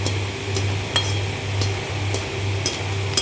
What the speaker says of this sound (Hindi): चलो इसको भी अब इसी तरीके से हम क्रिस्पी होने तक फ्राई करेंगे।